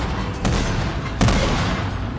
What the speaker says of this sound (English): land just as the first cannons begin to fire off